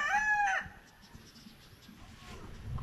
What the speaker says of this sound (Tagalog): Ayan, may mga manok pa dyan, oh. Yan, ang mga manok.